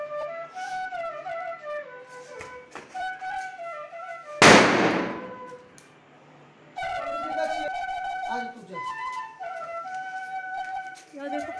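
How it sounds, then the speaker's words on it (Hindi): A single firecracker bursts loud and sharp among chattering voices during the Igas Bagwal (Budhi Diwali) festival in Uttarakhand. People talk before and after the crack. "पटाखे फोड़ रहे हैं"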